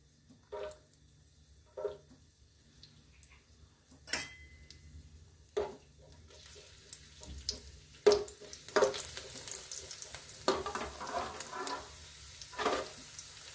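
Garlic drops into hot oil in a pan and begins frying. Scattered clicks and taps of utensils come first, then a building crackle and sizzle with sharp spatters, with no one speaking.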